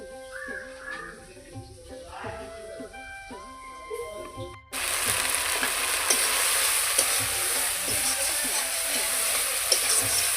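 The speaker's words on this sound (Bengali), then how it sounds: "কাতল মাছের কালিয়ে বানাচ্ছে।" Catla fish kalia curry frying in a pan, a loud steady sizzle that jumps up sharply partway through, with stirring scrapes throughout and a voice talking faintly in the first half.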